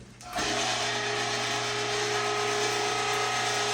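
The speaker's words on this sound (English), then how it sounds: "Let's just go ahead and start grinding." A meat grinder chews through semi-frozen chicken gizzards for sausage, starting up abruptly and then running as a loud, steady mechanical whir with a ratcheting, gear-like grind throughout.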